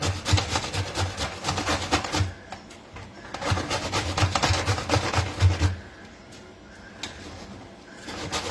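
Raw mango being grated by hand for mango pickle, a steady rasping scrape in quick repeated strokes that runs for several seconds, pauses, then returns more faintly with brief scratches.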